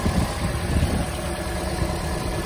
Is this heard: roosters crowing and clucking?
no